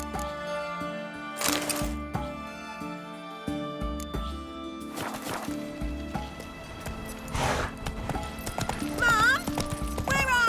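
The horse Roach galloping in The Witcher 3: Wild Hunt, with clip-clop hoofbeats and a neigh mixed with game music and effects, while someone speaks.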